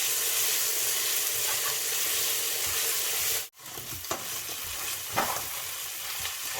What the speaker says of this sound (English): You have to stir together,